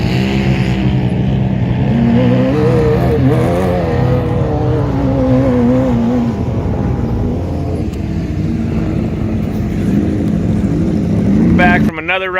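A Hayabusa-powered sand rail on the dunes revs loud and close, its high engine note rising and falling in long sweeps. It settles lower, then a sharp rev spikes at the very end.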